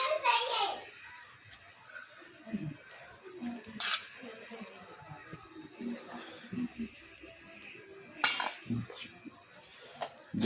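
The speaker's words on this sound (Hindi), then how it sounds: "तो अब हम इसको डिश आउट कर लेते हैं" Potato peas gravy and boiled rice are served from a pot, with a few sharp clinks and scrapes of a spoon against metal cookware amid quieter kitchen noise, while children's voices chatter faintly in the background.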